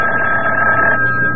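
A telephone rings once with a steady, loud electronic tone, a sound effect in a 1974 CBS Radio Mystery Theater drama, heard alone without speech.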